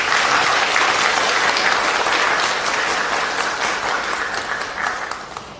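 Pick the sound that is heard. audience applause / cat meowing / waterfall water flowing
audience applause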